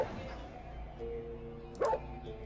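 Alien dogs in the Foreign Creature 2 flash game give short yips and barks, with one louder bark near the end, mixed with faint background voice sounds.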